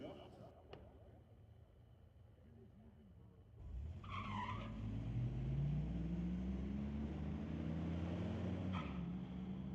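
Chevy 1500 pickup trucks racing at a drag event, engines roaring up loudly after a quieter start and holding a rising, sustained drone, with tire noise and a commentator talking over the top.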